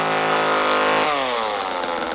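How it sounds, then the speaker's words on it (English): A chainsaw roars loudly and continuously, its pitch dropping midway as it bogs under load. "He runs right into the chainsaw."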